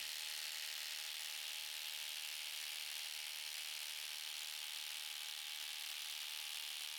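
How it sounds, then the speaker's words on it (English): A Milwaukee M12 stubby impact driver on a 5 amp hour high-output battery runs flat out in a 10-second max-torque test, producing a continuous, even, high-pitched whirring drone with no talking. "First up, we have the Milwaukee M12 stubby here running the 5 amp hour high output."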